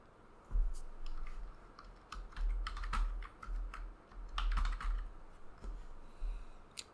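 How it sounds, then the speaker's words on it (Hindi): Fingers type 'admin' on a computer keyboard to log in to an Airtel Xstream Wi-Fi router page, giving irregular bursts of close, crisp key clicks with short pauses over several seconds. "यूजर नेम और पासवर्ड में दोनों में ही स्मॉल लेटर्स में एडमिन टाइप कर देना है"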